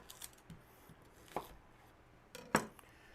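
A knife chopping a white onion on a board, just a few sparse, soft strikes spaced apart in a quiet kitchen, the last one slightly sharper and louder.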